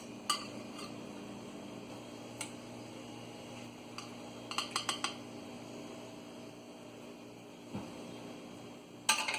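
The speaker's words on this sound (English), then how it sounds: "Let me plate it so you can see how it looks like, and the potatoes that is in the bottom" Beef curry and potatoes in coconut sauce being served onto a dish, with scattered light clinks and scrapes of cutlery on crockery over a quiet kitchen hum, a few taps clustering midway and a sharper clink at the end.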